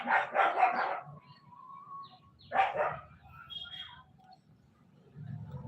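Dogs on a residential street give a burst of several barks, then a second bark after a pause, fairly near, with faint birdsong and quiet background between.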